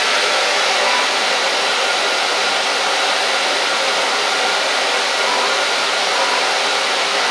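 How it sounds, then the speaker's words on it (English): A hair dryer fitted with an infrared diffuser drying natural curls, a loud steady blowing whoosh held close and unbroken throughout. "Go and blow dry it with a diffuser in a natural fall and natural curls."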